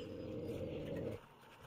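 A hostile dog in the survival video game 7 Days to Die lets out a low, rough snarl lasting just over a second, fairly close and steady, then cuts off abruptly, leaving quieter game ambience.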